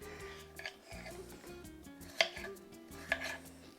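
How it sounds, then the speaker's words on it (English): A knife chopping vegetables for vegetarian enchiladas in a home kitchen, soft scattered taps on a board under quiet background hum and music, faint and close. "So you can chop them down a little bit."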